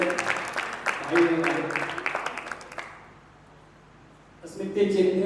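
Applause from an audience at a stage play event in honor of a Bollywood makeup artist, a steady dense clapping that fades into a lull before a voice speaks.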